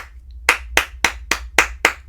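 Six sharp hand claps in a steady, even rhythm, close and loud, following a brief quiet start, from a rhythm-reading lesson in a music class.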